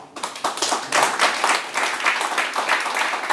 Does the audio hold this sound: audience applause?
yes